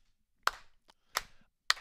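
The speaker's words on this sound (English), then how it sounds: "Jess Drummond, slow clap in the studio." Three slow, deliberate hand claps ring out one by one in a quiet sports broadcast studio, each sharp and close, spaced roughly evenly with silence between them.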